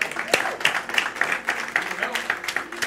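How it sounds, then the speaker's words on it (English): A church congregation claps in a loose, uneven patter, moderately close, with voices talking over it throughout. "You should clap about this."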